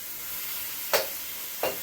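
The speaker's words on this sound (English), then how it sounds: "we're getting a decent sear on this" Beef sears in a hot pan with a faint, steady sizzle, broken by two brief, sharper bursts of frying noise.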